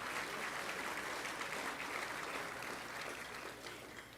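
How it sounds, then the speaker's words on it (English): An audience at a State of the City address claps in a dense, continuous wash that tapers off slightly toward the end. "yes, it does deserve an applause."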